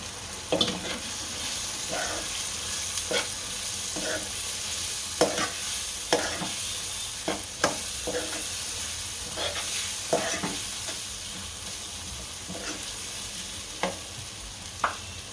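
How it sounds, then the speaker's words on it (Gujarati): Peas being stirred in a hot frying pan while cooking sev usal, with a spoon scraping in regular strokes over a continuous sizzle, close and alone. "હવે બધા વટાણા ફેરવી દઈશું"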